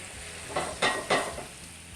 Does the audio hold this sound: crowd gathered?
no